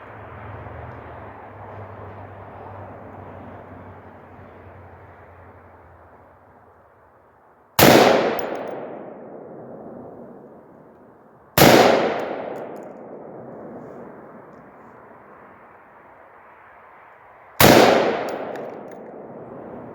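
Three sharp rifle shots from a rifle fitted with a .22 LR conversion bolt ring out outdoors, evenly spaced several seconds apart, each a loud crack with a decaying echo over a quiet background hiss.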